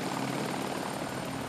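A Rega rescue helicopter flies nearby, its rotor and engine roar steady and loud throughout with no voices over it.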